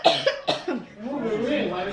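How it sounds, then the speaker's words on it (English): A few quick forced coughs from a person faking a cough, close and clear, followed by a voice talking. "It's not a real cough."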